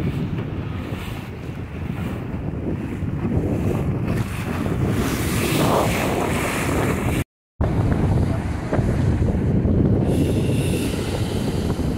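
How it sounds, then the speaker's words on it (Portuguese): Strong wind roars at sea on a fishing boat, with heavy wind buffeting against the microphone over surging waves and water rush. It stays loud and continuous, with one abrupt half-second dropout. "E o vento tá ficando forte."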